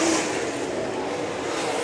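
Lucas Oil MLRA late model race cars roar around the Davenport Speedway dirt oval during the Corn State Nationals, a loud sustained engine drone under full throttle with no voices.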